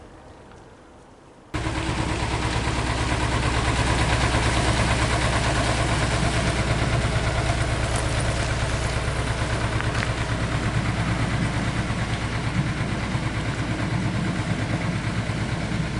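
Quiet at first, then a canal boat engine starts up and runs steadily with a deep, rhythmic chugging that stays loud and close throughout, passing near an aqueduct.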